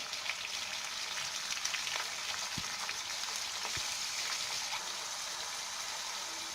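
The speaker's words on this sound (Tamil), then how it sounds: "வெங்காயம் நல்லா வதங்கட்டும்." Sliced onions with salt frying in a pan for mutton keema, a soft continuous sizzle with light crackle and a couple of brief utensil taps, fairly quiet and even.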